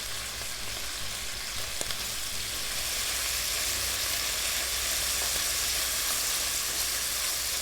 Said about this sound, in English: When we get that lovely golden caramel colour, it's time to turn the beef and move it around slightly.